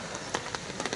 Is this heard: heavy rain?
yes